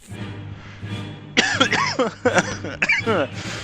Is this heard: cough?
yes